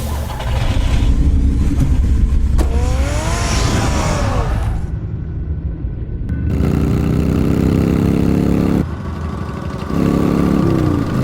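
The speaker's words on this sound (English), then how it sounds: "Get the car ready, Alfred." A car engine in a Batman video game starts and revs, loud and close, with rising whines, abrupt cuts and renewed steady engine drone.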